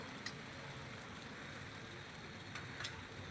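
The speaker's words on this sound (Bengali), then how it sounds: "রান্না শুরু করার সময় বৃষ্টি শুরু হয়েছিল আবার রান্না শেষ হলো বৃষ্টি শুরু হয়ে গেছে" Steady rain falls outdoors as a soft, even hiss, faint and continuous throughout, with a couple of slightly louder drips or spatters standing out.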